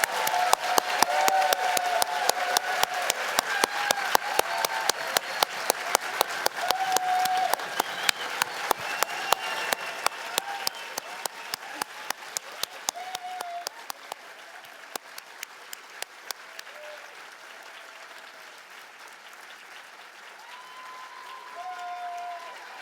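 A large audience applauds graduates at a Harvard Medical School PhD hooding ceremony, steady dense clapping that slowly thins and fades, with a few faint voices murmuring near the end.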